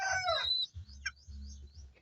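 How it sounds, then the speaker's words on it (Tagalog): A breeder gamefowl rooster crows close by in a short, loud call that trails off, followed by low clucking and a few faint bird chirps. "Yan yung update sa ating ibon na ito na si Wasak"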